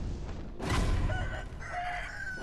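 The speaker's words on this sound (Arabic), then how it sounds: "ديك" A rooster crows in the video game Sekiro: Shadows Die Twice, a loud, drawn-out cock-a-doodle-doo rising out of game ambience and holding for nearly two seconds, with no talk over it.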